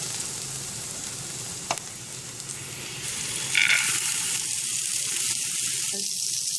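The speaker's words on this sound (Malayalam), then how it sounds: "ഇതൊന്ന് നന്നായി വഴറ്റിയിടാം ഇപ്പോൾ സവാള ആവശ്യത്തിന് വന്നിട്ടുണ്ട് നമുക്കിതിലേക്ക് ഇനി ചെറുപയർ ചേർത്തെടുക്കാം" Onion and green gram sizzle and fry in a pan for a green gram and egg thoran, loud crackling with stirring scrapes and a brief clink, continuous and close.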